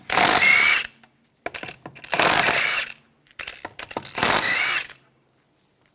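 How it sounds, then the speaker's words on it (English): Three loud bursts of ratcheting from a ratchet and 17mm socket loosening lug bolts on a BMW 325Xi wheel, each rapid clicking run lasting under a second with short pauses and faint handling noises between. "Remove the wheel, use a 17mm socket. Take the lug bolts out."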